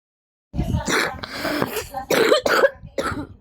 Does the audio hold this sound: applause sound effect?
no